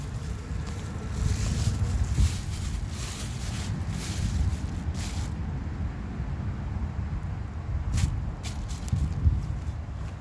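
A 1930 Eljer Sanus toilet flushes a washcloth and a grocery bag together, giving a loud, steady rush of water with surging swells and a brief gurgle near the end.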